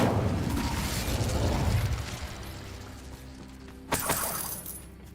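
An Incendio fire spell in the PC game Hogwarts Legacy gives a loud whooshing, crackling blast that fades over a couple of seconds, followed by a sharp pop or crack, with no speech over it.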